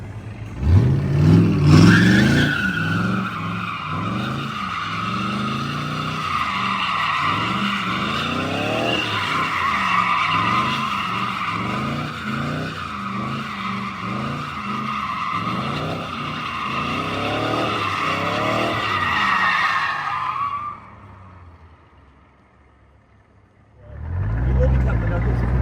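A Corvette drift car slides with a long, sustained tire squeal over a pulsing, revving engine for about twenty seconds, then goes quiet before the engine roars up again. Voices can be heard in the background.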